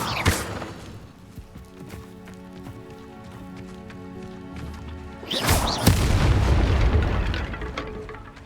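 An Incendio fire spell is cast twice in Hogwarts Legacy, each time a sudden whooshing burst. The second blast is louder and flares into a sustained roaring rush, with faint magical ambience between the two.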